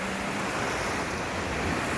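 Sea waves wash continuously along Hua Hin beach in Thailand, a steady broadband roar of surf mixed with some wind noise, fairly loud and close with no voices.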